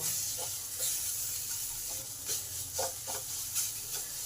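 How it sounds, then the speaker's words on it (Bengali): Banana flower mash with turmeric, cumin and coriander powder is stirred in a hot pan, giving a steady low sizzle with soft, irregular scraping strokes of the spatula throughout. "এবার সমস্ত কিছুকে একটু ভালো করে নেড়ে নেব"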